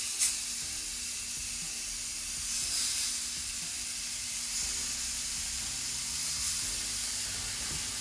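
Meat fries in a hot pan for about 30 seconds as a steady bright sizzle with soft crackles, fairly quiet and continuous, with no talking over it.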